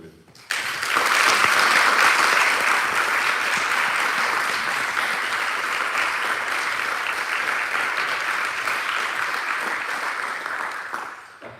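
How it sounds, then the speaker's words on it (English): A lecture-hall audience at a mathematics lecture bursts into loud, dense applause that holds steady for about ten seconds, then thins and fades out. No one speaks over it. "give a big applause for young Philip."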